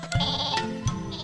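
Cartoon sheep bleating twice in quick succession, loud and close, over a busy animated soundtrack with no talking.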